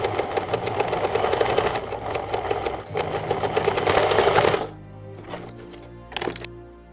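A sewing machine stitches a fabric strap for a cutlery roll-up pouch, running in a steady, fast, close mechanical chatter for about four and a half seconds before stopping, followed by a few short bursts and clicks.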